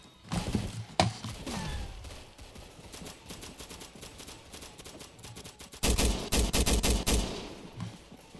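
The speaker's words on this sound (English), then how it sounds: "the light machine gun is very good" Light machine gun firing in a video game, a few scattered shots early, then a dense sustained burst of rapid automatic fire near the end, moderately loud with no talk.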